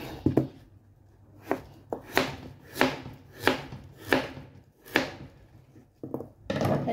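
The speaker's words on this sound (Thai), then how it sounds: "เดี๋ยวเราก็มาหั่นเผือกนะคะ" A knife chops taro on a cutting board in about ten steady thuds, close and distinct, with brief gaps between strokes.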